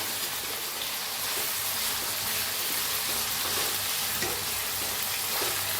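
Potatoes fry in a pan with a dense, constant sizzle close by, while a utensil stirs them in soft scraping strokes underneath; no one speaks.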